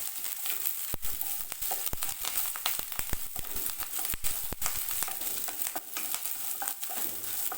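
Onion, curry leaves and dried red chillies sautéing in hot oil for a drumstick flower egg poriyal, a dense continuous crackle and sizzle with frequent sharp pops and stirring scrapes, close and steady throughout.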